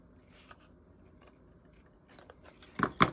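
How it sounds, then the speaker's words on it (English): Scissors fussy cutting a paper gingerbread figure for a stamped card, with light, close snips and paper scraping that end in two sharper, louder cuts. "I can bring in my scissors and I'm just gonna fussy cut this out"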